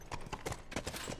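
Horse hooves clop steadily in The Last of Us Remastered, a quick uneven run of thuds that sounds close and clear throughout.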